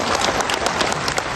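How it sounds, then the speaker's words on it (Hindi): Dense, loud applause from a large crowd at an ex-servicemen's mega rally in Dehradun, steady and sustained throughout, with no talking. "जोर से ताली बजाइए।"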